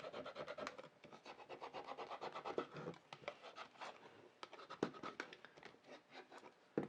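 A handheld scraper rubs adhesive vinyl flat onto a Cricut machine tool organizer. Close, continuous rasping strokes repeat steadily with small sharp ticks between them.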